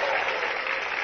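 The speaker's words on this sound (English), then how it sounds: "I would like you, the live audience, to cheer up for our VR audience" Live audience at a TED talk on virtual reality erupts on cue, a dense, loud roar of clapping and cheering that fills the whole moment with no single voice standing out.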